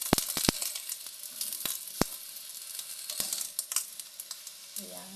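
Eggplant sizzles in a small amount of oil in a pan, a steady close crackle punctuated by sharp pops and spits throughout.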